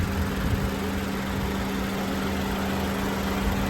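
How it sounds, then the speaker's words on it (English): A Toyota 86 car engine idling close by, a steady, even mechanical hum with a constant drone and no change in pitch throughout. "You can hear I got the car running."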